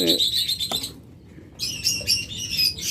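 Pet birds such as lovebirds, budgerigars, cockatiels and diamond doves at a bird farm chirp in bright bursts, pausing briefly midway before a busy chorus of tweets resumes close by.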